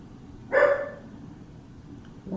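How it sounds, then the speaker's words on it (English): A small lap dog, Pixie, gives a single short bark near 0.5 s, fairly close and moderately loud over a quiet room hum, then goes silent. "What is he barking at?"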